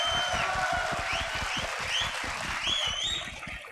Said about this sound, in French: Là par contre c'est un énorme tonnerre d'applaudissements.